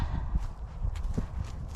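Horses walking outdoors give a soft, irregular clip-clop of hooves, fairly faint and close, over a low background rumble.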